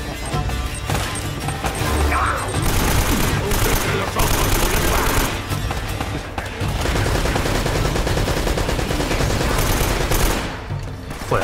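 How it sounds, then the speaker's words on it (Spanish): Sustained machine gun fire and rapid gunshots from a firefight in the Uncharted video game, loud and continuous bursts with brief pauses, with someone talking intermittently over the shooting. "hay uno que está vaciando los cargadores, ¿le escucháis?"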